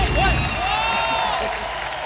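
A television studio audience applauds and cheers in a steady, loud wash as superstar Salman Khan is welcomed onto a comedy show stage, with whistles or tonal music threading through the crowd noise.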